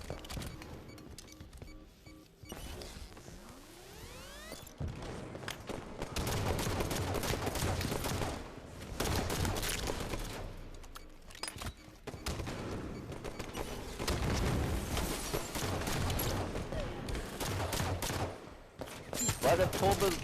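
Sustained gunfire from players in a competitive shooter match, bursts of rapid shots rattling in long stretches separated by brief lulls, loud and close throughout.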